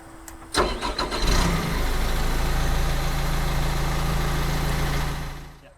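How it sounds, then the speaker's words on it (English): Diesel engine of a heavy hydraulic machine cranks briefly with a key start, catches with a loud burst, then settles into a steady low idle that fades near the end; no voices. "now that the gauges are on, we can start the engine"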